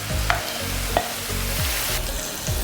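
Ground beef frying in a pan while being broken apart, a loud close sizzle with repeated scraping and tapping of a utensil against the pan, no voices.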